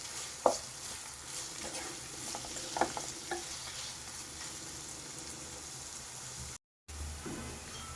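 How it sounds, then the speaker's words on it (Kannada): Onions frying in a pan for a dhaba-style egg kadai masala, a steady broadband sizzle running throughout with a few sharper stirring clicks, close and moderately loud, with no voices and a brief dropout near the end. "ಆ ಥರ ಇದು ಈರುಳ್ಳಿನ ನಾವು ಚೆನ್ನಾಗಿ ಫ್ರೈ ಮಾಡ್ಕೋಬೇಕು"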